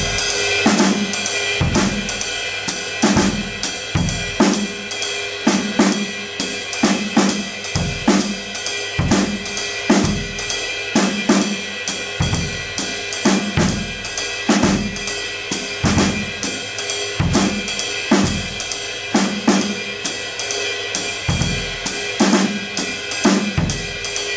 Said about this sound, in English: And also you can assign the notes to either the snare drum, the bass drum, or even in unison if you like.